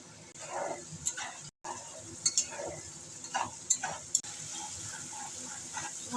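Mustard, salt and turmeric spice paste fried in oil in a pan for pomfret curry gives a soft, quiet sizzle, broken by occasional scraping stirs of a spoon against the pan.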